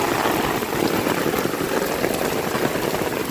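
Steady rain falls beside the Muhuri river at dusk in Belonia, Tripura, with wind, a dense continuous hiss of drops filling the scene, loud and unbroken.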